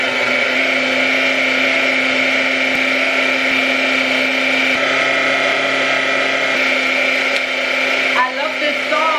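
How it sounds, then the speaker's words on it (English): A blender runs steadily through a smoothie, a loud continuous whirring drone that holds nearly the whole time, with a brief change in pitch near the end and faint talk in the background. "Making a smoothie."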